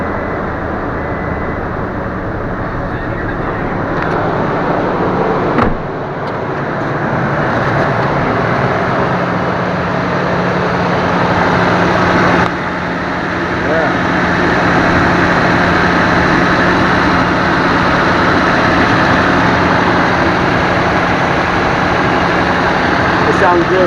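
A 2007 Toyota Tacoma engine idles steadily just after a cylinder head and head gasket job, a continuous even hum with a faint low tone that stays level throughout, with a brief shift partway and some background noise.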